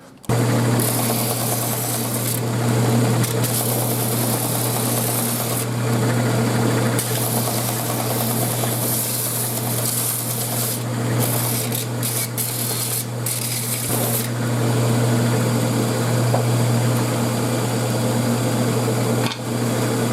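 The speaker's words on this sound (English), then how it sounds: "Next we sand them." Continuous sanding of metal clamps meant to hold a large vacuum tube, a steady loud abrasive rasp with a droning motor hum that runs almost unbroken, with a few brief pauses.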